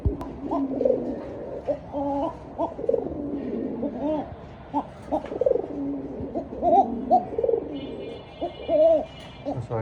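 A black king pigeon coos close by in repeated throaty, rolling calls with short pauses between them, loud and clear over faint background noise.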